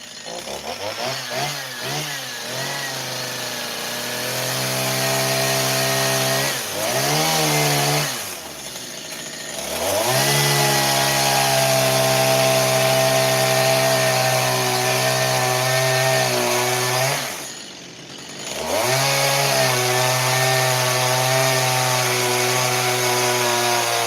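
A chainsaw roars steadily through wood, its engine pitch dipping and recovering twice as the blade bogs down, loud and close with no talking.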